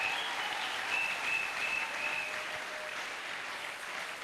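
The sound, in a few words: congregation applauding and acclaiming God in church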